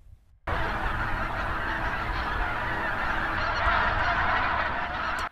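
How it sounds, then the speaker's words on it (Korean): A large flock of wild geese and Baikal teals honks at a reservoir in winter. The honking is dense and continuous and carries across open water and fields. It starts abruptly, holds steady with no one speaking, then cuts off. "기러기와 가창오리 무리가 역시 먹이가 풍부한 들판과 저수지를 오가면서 추운 겨울을 보냅니다."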